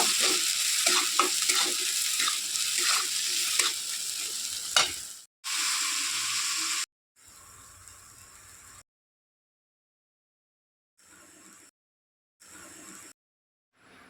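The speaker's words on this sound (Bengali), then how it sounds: "হলুদ গুঁড়ো দিয়ে দেবো ধনে জিরের গুঁড়ো দিয়ে দেবো সামান্য লঙ্কা গুঁড়ো ভালো করে মিশিয়ে নেব" Ground turmeric, coriander, cumin and chilli powder are stirred into fried ginger and green chilli in a pan, a loud sizzle and scraping stir at first, then fading into short, quieter bursts separated by silence.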